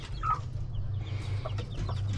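Backyard chickens cluck in short, scattered calls at moderate distance, over a steady low rumble with no talking.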